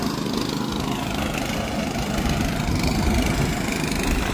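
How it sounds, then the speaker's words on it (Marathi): A tractor churns mud while puddling a paddy field in the Konkan, its engine a loud, steady, rumbling drone close by with no break. "ह्या साईड का तो जो ट्रॅक्टर आहे तुम्ही बघताच तो चिखल करून घेतात।"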